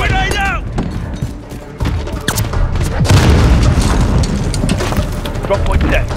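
Grenade blast in a Call of Duty Modern Warfare multiplayer match, a loud boom early on followed by rumbling gunfire and battle noise, with game voice chatter mixed in.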